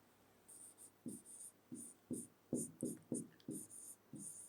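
A pen scratches across paper in short, quiet strokes, roughly ten separate bursts at an uneven pace, close by with no talking.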